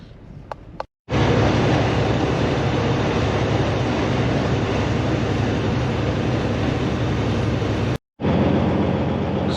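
A long, heavy rumble of a freight train rolls past close by, a steady roaring drone with clattering undertones, cut off briefly near the end.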